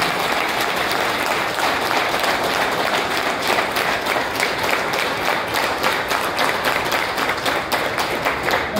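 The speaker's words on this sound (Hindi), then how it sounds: "एक बार जोरदार ताली बजा के विलास पाटिल साहब का स्वागत कीजिए" Sustained crowd applause for Vilas Patil, former mayor of Bhiwandi, at a Congress party joining event, steady and dense clapping from a large audience throughout with no breaks.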